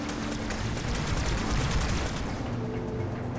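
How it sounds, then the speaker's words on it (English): Enemy gunfire during the Heretic boss fight on the Oracle level of Halo 2 comes as a loud, dense, continuous rattle of rapid shots, easing slightly toward the end. "He's still shooting at me."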